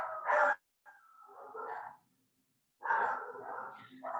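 Dogs bark at a campfire ghost story, a few separated bursts of barking and yipping with short gaps of silence between them, sounding somewhat distant.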